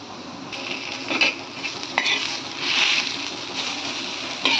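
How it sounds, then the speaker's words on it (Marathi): Onions frying on a tava for masala, a moderate continuous sizzle broken by scraping, clinking stirs of a spatula against the pan. "तवा गॅसवर ठेवलेला आहे त्यामध्ये कांदे टाकून घेऊया"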